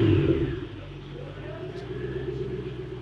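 A Ford GT barn find, idle for about 15 years, starts up and settles into a steady low rumbling idle at close range, fading slightly after the initial burst.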